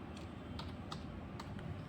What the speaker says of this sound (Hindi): एंटर क्लिक करेंगे